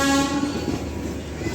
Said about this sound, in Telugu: ట్రైన్ అయితే ముంబై సెంట్రల్కి చేరుకుంది